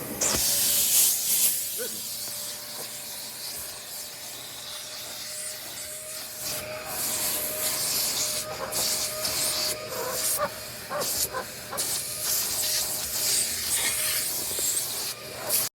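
A Vacmaster Professional Beast shop vacuum runs in a garage, giving a steady, loud broadband rushing hiss of suction with a faint whine throughout, occasionally broken by brief bursts of scraping and sucking noise.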